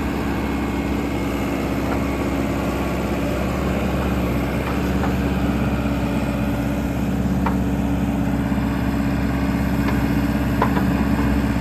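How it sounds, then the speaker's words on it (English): Diesel engine of a 2016 JCB 3CX backhoe loader idling steadily outdoors, a constant close rumble with occasional faint clicks and no talking. "Engine sounds good."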